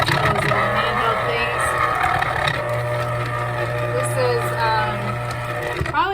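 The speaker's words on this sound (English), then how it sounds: "This is an electric juicer, so it's kind of loud, kind of obnoxious, but it really works well." An electric juicer whirs loudly and steadily as it juices a lemon, a constant motor drone close by with someone talking over it throughout.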